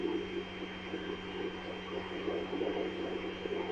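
Airplane engine in the video game Just Cause 2, a steady droning jet roar with a constant hum, continuous and fairly loud with no talking.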